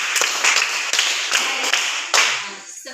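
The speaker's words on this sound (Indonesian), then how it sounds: "Beri aplaus untuk teman-teman yang sudah membaca." Schoolchildren applaud classmates who have just read aloud in a classroom, a close burst of brisk clapping that swells and fades in waves for about three seconds, with no talking.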